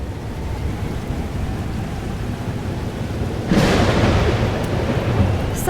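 Thunderstorm in the video game Life Is Strange: Double Exposure: steady rain hiss throughout, then a loud thunderclap breaks in about midway and rumbles on to the end, with no voices.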